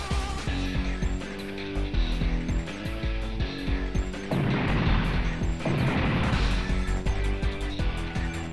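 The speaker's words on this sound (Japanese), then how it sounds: "絶対死者出るでしょう、あの爆発は。" A large explosion in the mecha strategy game The 3rd Super Robot Wars Z, a loud sustained blast with crashing bursts layered over a continuous game soundtrack, with no talk.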